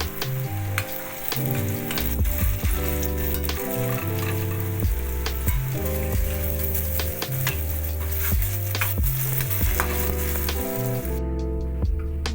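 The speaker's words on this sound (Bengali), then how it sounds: "এবারে এগুলো সব উল্টে দেবো আর তারপরে বাকি বড়াগুলো ভেজে নেব, ভেজে তুলে নেব।" Fig fritters frying in hot oil give a steady, close crackling sizzle that runs the whole time beneath prominent background music, thinning out near the end.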